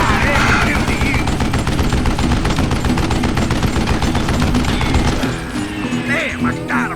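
In the video game Call of Juarez Gunslinger, loud, dense gunfire sounds in rapid bursts and overlapping shots that keep up almost without a break, easing near the end, with shouted character voices over the top.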